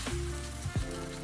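Dosa-like batter hits hot ghee in a pan and sizzles loudly and steadily, with a brief scrape midway as it is spread thin.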